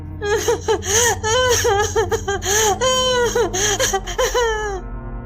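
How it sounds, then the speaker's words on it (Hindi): A woman crying in a forest in a Hindi moral story: loud, wavering sobs and wails repeat in a steady rhythm, close and alone, with no talk over them. "तभी कुछ दूर जाने पर एक स्त्री की रोने की आवाज सुनाई पड़ती है।"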